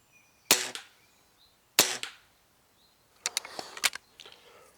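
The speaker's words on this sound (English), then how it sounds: "Let me just fire a couple on here." Rifle shots fired from Primos trigger sticks: two sharp, loud single reports spaced about a second apart, then a third with clattering follow-up noise and a fainter trailing crack.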